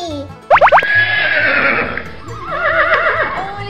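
A horse in a toy farm scene gives a loud, close neigh, a quick series of rising whinny pulses that trail into a long wavering call, with faint hoof clip-clop beneath.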